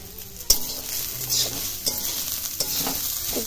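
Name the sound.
chopped onions frying in a pan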